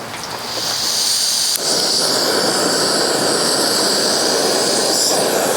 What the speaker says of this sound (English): we're going to give it a little bit of gas. You'll hear it coming out there